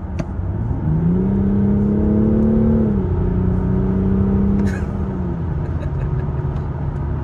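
A car under hard kickdown acceleration, engine note rising in pitch, dipping at a gear change, then climbing again, loud and close over a constant broadband roar of road and tyre noise, with no talking.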